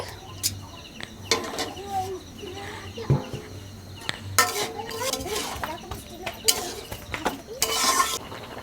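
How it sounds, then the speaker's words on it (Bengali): Fried winter vegetables go into a pot of simmering dal, with scattered clinks and scrapes of a spoon against the pot and soft stirring, while birds chirp faintly in the background. "সেদ্ধ হয়ে গেছে ভেজে রাখা সবজি দেবো এবার সবজি দিয়ে দিচ্ছি"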